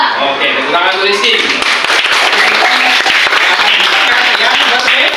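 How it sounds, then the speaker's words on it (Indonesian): Students in a classroom clap together in a loud burst of applause that carries on steadily, with voices mixed into the clapping. "Oke, tepuk tangan untuk Rizky."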